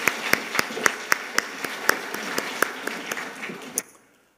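Church congregation clapping at a Sunday worship service, fairly close, with loud individual claps punching through a steady patter before stopping abruptly near the end.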